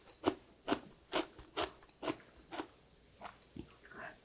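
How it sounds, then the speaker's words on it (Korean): Someone bites into crunchy raw Jeju winter radish, unsalted and juicy, giving about nine crisp, sharp crunches at a steady pace, close up and fairly quiet with no talking. "무 자체에 물이 많이 들어있어서 아삭아삭하면서 아주 맛있어요."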